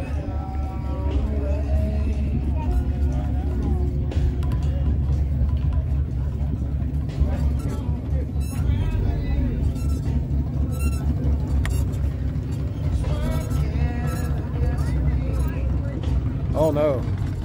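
A gasser hot rod's engine rumbles at an outdoor Corvette club car show, a deep, steady low growl under nearby chatter and talking, with occasional revs rising over the crowd noise.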